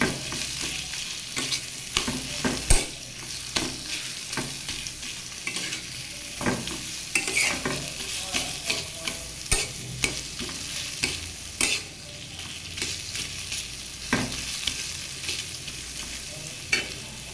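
Chickpeas and taro leaves frying in a pan while being stirred, a steady sizzle broken by frequent scraping strokes of the spoon, close and fairly loud, with no talking.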